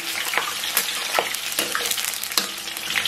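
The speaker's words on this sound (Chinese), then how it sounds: "咱们把切好的葱姜给它下到锅中，简单咱们给它煸炒一下" Chopped scallions and ginger sizzle in hot oil in a wok, a loud continuous frying hiss broken by repeated scraping stirs of the spatula.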